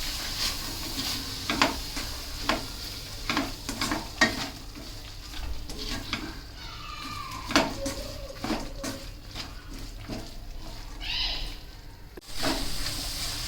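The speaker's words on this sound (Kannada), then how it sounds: "ಈಗ ಹೆಸರು ಕಾಳು ಹಾಕ್ತಾಯಿದ್ದೀನಿ. ಅದನ್ನು ಸ್ವಲ್ಪ ಫ್ರೈ ಮಾಡೋಣ," Green gram (moong) is stir-fried in a pan for a drumstick-leaf palya, with a soft sizzle under repeated close scraping and stirring strokes and a few clinks of the utensil on the pan.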